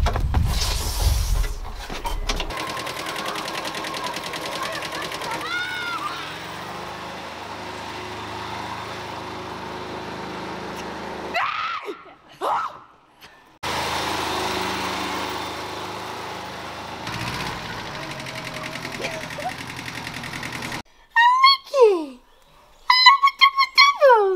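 A tractor engine runs at a steady drone on a farm, its tone shifting now and then, broken by short gaps and a few sharp higher squeaks toward the end.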